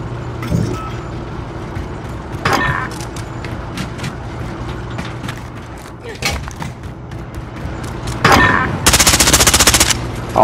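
Automatic gunfire in Call of Duty: Modern Warfare (2019) Search and Destroy, with sharp bursts of shots, one cluster near the start and a dense, loud rattling burst toward the end over a steady in-game hum, with voices talking at times.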